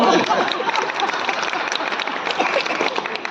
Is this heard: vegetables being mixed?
no